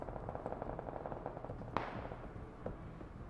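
Distant DMR rifle fire in PUBG during long-range battles: a fast run of faint, evenly spaced cracks, then a few louder single shots, all fairly far off and with no talk.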